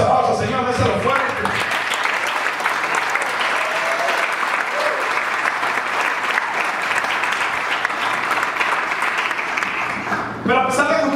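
Congregation in a Christian worship service bursts into sustained applause mixed with joyful shouts, a loud, dense wash of clapping that holds steady for about nine seconds before fading as voices return.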